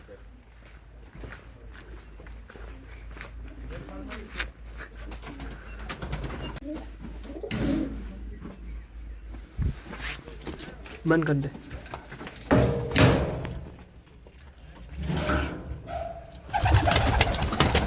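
Flying pigeons coo softly in the background while people talk nearby, with occasional rustles and footsteps.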